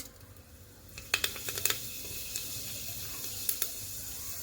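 Hot oil sizzles steadily, with a few sharp crackles and pops as fenugreek seeds drop in, then settles into a soft continuous fizz.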